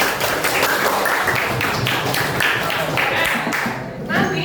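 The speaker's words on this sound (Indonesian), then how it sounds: "tepuk tangan." Class 9A applauding in a school classroom, a dense wash of many hands clapping steadily and loudly for several seconds, easing slightly near the end.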